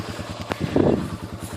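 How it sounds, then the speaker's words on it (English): A quad ATV engine idles in the background with a steady low pulsing chug, close and moderately loud, with a brief clatter and a short burst of noise midway. "You can hear the quad running in the background."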